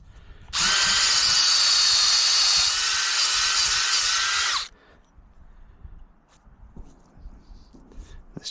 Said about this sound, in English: So we're going to drill a hole here.